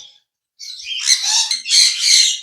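A yellow parrot gives several harsh, raspy squawks in quick succession, close and fairly loud, with a brief silence before the calls begin.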